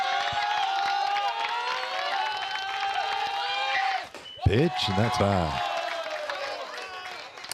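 Student section crowd cheering at a Berwick Panthers vs E.D. White Cardinals baseball game: a steady, broad roar of fans that runs throughout, beneath a commentator who keeps talking over it.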